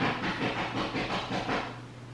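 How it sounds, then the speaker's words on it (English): A house cat hisses during a scuffle with another cat, a run of rapid, rhythmic breathy hisses close by, loud at first then easing off. "That is my cat trying to fight one of my other cats."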